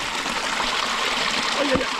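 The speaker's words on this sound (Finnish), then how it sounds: "Siihen tulee kuumasta lähteestä vettä, jotta sä voit liottaa jalkoja siinä" Hot spring water pours steadily into a public foot bath in wintry Hokkaido, a continuous rushing, splashing flow heard close and fairly loud without a break.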